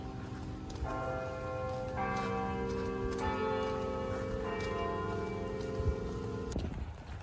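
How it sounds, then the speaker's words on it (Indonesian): Beaumont Tower carillon bells at Michigan State University ring out in a steady sequence of sustained, overlapping tones outdoors, with a low constant background rumble. "Kalau misalnya denger si Bauman Tower-nya ada bunyi lagi."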